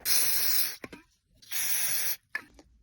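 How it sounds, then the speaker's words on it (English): Brake cleaner sprays onto SSR/YX140 pit bike engine parts in two sharp, close hissing bursts, each under a second, separated by quiet gaps and faint handling clicks. "I'm gonna clean off with some brake cleaner first."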